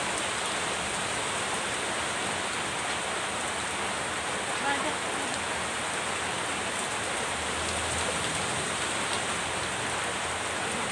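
Heavy typhoon rain pours down in a constant, dense broadband hiss that stays unbroken from start to end, with faint voices barely audible beneath it.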